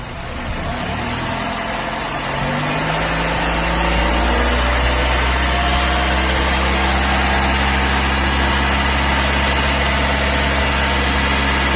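A car engine revs up from idle to about 2000 rpm during a charging system and alternator test, its steady hum climbing over a few seconds and then holding a loud, even drone close by.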